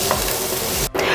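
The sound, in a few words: onions and garlic sautéing in a pan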